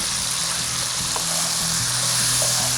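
Mashed ingredients frying with tomatoes in a pan for Afghani karahi, a loud, dense, unbroken sizzle with a faint low rumble beneath it over a few seconds.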